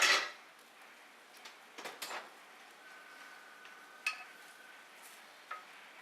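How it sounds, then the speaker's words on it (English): Roasted ratatouille vegetables stirred in a pan, giving a few soft scraping and clinking touches of a utensil against metal, quiet and sparse, with a brief louder scrape at the start. "Go ahead and stir all that up a bit."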